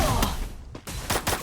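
Gunfire in the Free Fire video game comes in a few sharp, close bursts separated by short gaps. Game background noise runs throughout.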